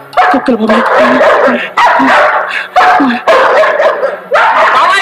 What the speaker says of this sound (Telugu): కుక్కలు